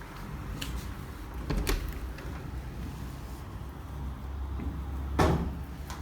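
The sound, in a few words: bathroom door opening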